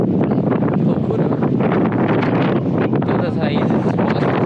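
Strong wind at Jericoacoara roars and buffets continuously against the microphone, loud and unbroken throughout.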